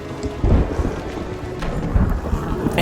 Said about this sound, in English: it just started to storm